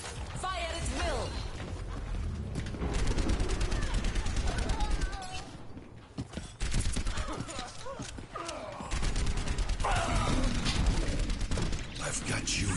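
Rapid bursts of automatic gunfire from the Overwatch video game come in dense stretches broken by brief pauses, with mechanical clatter and game effects throughout.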